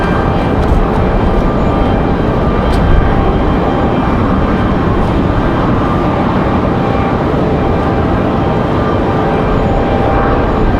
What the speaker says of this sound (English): So we got United in 737 out of here